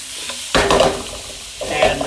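Carrots stir-frying for chow mein hiss and crackle in a hot pan, with two loud bursts of sizzle as the food is stirred, close and alone.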